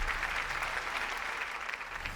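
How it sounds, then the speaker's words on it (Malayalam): Studio audience at a Malayalam TV game show applauding in a steady wash of clapping, fairly faint and continuous throughout. "ഉറക്കത്തിൽ പടക്കം പൊട്ടുന്ന പോലെ കൈയടിക്കാൻ ഓരോ കാണിയും റെഡി ആയിട്ടിരുന്നു"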